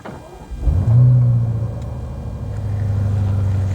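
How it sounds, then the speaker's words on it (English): A BMW M5 Competition F90 engine, started in sport mode, cranks and fires into a deep, loud rumble, then settles into a steady throaty idle that swells slightly toward the end. "I'm gonna start it in sport mode."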